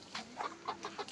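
Chickens clucking at a village chicken farm, a handful of short, fairly quiet clucks spaced in an uneven rhythm with no talk over them.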